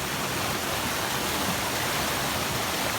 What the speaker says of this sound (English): Got a small creek coming down over there.